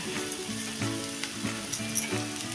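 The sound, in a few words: sautéing sabudana khichdi with chilli powder in pan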